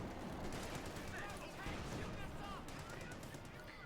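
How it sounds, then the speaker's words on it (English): Rapid bursts of machine gun fire in a Company of Heroes 2 battle near a building by a fuel point, crackling steadily throughout at a moderate distance amid other battlefield noise. "Need to get that machine gun out of there."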